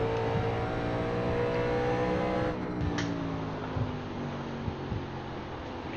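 Race car engine in iRacing, a 1987 NASCAR stock car at Phoenix, droning loud and steady at high revs, pitch easing down mid-lap as the throttle lifts, then holding a constant roar.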